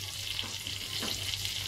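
Ghee sizzling in a hot kadhai (wok) as it heats, a steady close hiss of frying fat with faint stirring and a low hum underneath, no voices.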